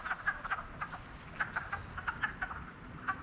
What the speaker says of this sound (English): that's definitely frogs coming from the water